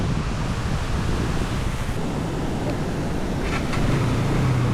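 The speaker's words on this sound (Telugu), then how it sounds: "అత్యంత డిఫికల్ట్ అయిన వాటర్ ఫాల్ ఇదే" A waterfall beside a dangerous mountain road between Koksar and Spiti Valley in India gives a steady, loud broadband roar of rushing water, mixed with wind, running unbroken throughout.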